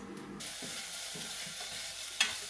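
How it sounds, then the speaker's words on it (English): Chopped onions sautéing in a little olive oil in a pan, a soft steady sizzle with faint stirring scrapes and a brief clink near the end, no voices. "Onions and a little bit of olive oil just to get them to caramelize."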